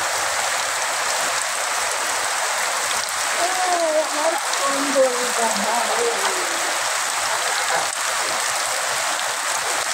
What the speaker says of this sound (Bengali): দেখেন প্রচণ্ড বৃষ্টি